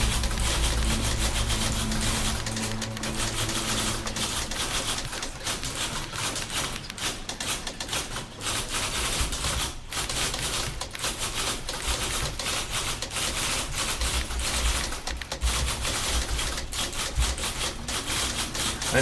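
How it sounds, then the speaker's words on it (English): Dense, continuous clatter of many typewriters hammering out notes at once in The Beginner's Guide, a steady mechanical rattle with thumping low tones, loud and sustained throughout with no voices. "These are all the typewriters leaving the notes."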